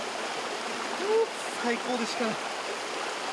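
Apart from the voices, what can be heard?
cold mountain river flowing in Ashigara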